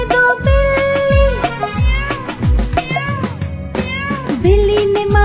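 A cat meows repeatedly in a steady run of short, loud, rising-and-falling cries, close by, with a musical backing.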